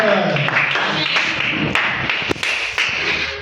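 A church congregation at prayer applauds, loud steady clapping with sharp individual claps standing out near the end and voices mixed in underneath.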